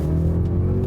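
A 2022 Mercedes S 580 luxury sedan's engine pulls under full throttle, a steady, loud, deep drone that holds without a break through the moment.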